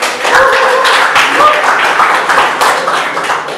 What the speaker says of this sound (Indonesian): Kita berikan tepuk tangan buat kalian dulu